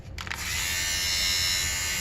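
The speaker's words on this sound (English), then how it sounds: "It is a sweater shaver." A USB-charged electric sweater shaver starts up after a brief click and runs with a steady, loud, close motor buzz that holds constant to the end, with no talking.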